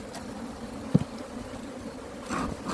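Honey bees buzz in a large, opened beehive with stacked honey supers during a hive inspection, a faint, steady hum with a brief louder thump near the middle.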